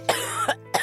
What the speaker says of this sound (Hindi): वो खांसते हुए जमीन पर गिर गई।